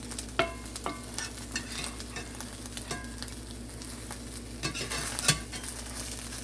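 An egg omelette sizzles steadily in a hot frying pan while a spatula scrapes and taps at it, with several sharp clicks and a louder bump as it gets turned, heard up close.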